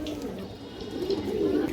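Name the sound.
pigeon cooing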